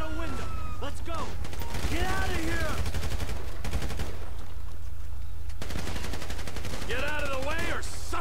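Rapid bursts of gunfire crackle in quick succession amid game sound effects and brief voices in GTA V story mode, with automatic-fire rattles throughout.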